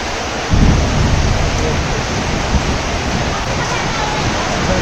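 Heavy rain pours down during a storm, a dense, loud, unbroken roar of falling water that swells with a low rumble just after the start and then holds steady.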